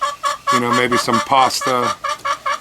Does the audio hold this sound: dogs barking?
no